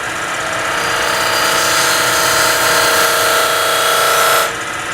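A parting tool rolls a bead into spinning wood on a lathe, giving a loud, steady, hissing scrape over the motor's hum. It stops abruptly near the end.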